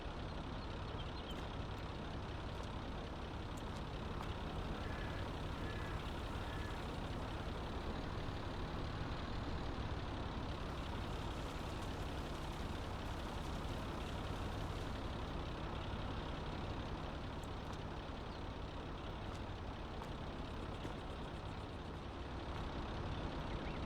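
Steady engine drone of a farm vehicle loading silage in Farming Simulator 22, a continuous low rumble with faint beeps, running alone without talk throughout.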